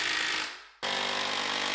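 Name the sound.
power drill driving screws into a workshop wall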